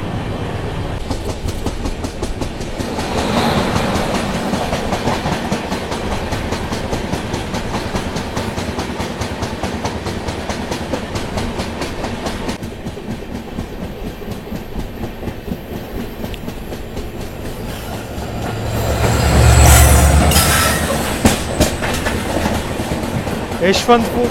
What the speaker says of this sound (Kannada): KSK crossing, Karnataka Sampark Kranti express